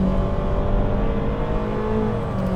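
Steady engine drone from a 2023 Honda HR-V at full throttle, a continuous droning roar from inside the cabin with no talking.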